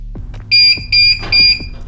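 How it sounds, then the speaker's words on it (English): A Guardian garage door opener signals that its travel and force limits are set with three loud, evenly spaced electronic beeps, each a steady high tone lasting about a quarter second, with faint mechanical clicks between them. "Once you hear the beeps and you see the light flash next to OK, you know that your travel limits and your force limits are set"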